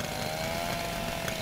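A chainsaw burns in the video game Little Inferno, a steady buzzing engine whine that holds at one pitch throughout, moderately loud, with no talking.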